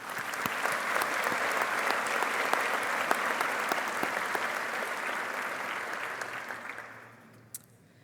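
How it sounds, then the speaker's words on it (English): Steady, full audience applause for mentors at a pharmacy white coat ceremony, dense clapping from a large crowd that holds for about seven seconds, then fades out with a last stray clap. "Please join me in a round of applause for our mentors."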